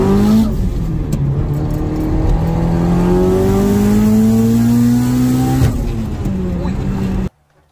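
A tuned 700 WHP Genesis Coupe 2.0T engine revs up steadily with its pitch rising for several seconds, crackles and pops from rolling anti-lag, then suddenly drops off and goes quiet.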